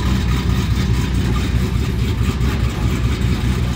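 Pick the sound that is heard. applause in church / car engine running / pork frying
car engine running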